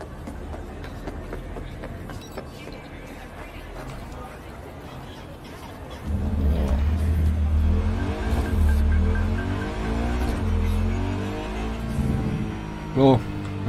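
Car in the video game Cyberpunk 2077 starts quiet under a talking voice, then surges into a loud, rumbling engine drive with wavering revs and a brief sharp tire squeal near the end.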